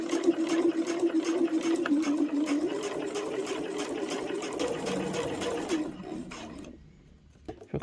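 Sewing machine stitching a rotary cutter pouch made from layer cake fabric, whirring steadily and close for several seconds before stopping, with almost no talk.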